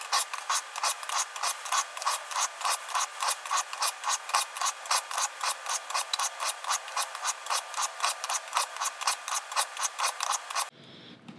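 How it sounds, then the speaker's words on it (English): A knife is drawn in quick, even strokes along the flat side of the gray stone of a Spyderco Tri-Angle Sharpmaker, producing dozens of close, rhythmic scraping rasps that stop abruptly at the end, with no talking. "Now it says to turn them to the flats where you're sharpening on the flat side now"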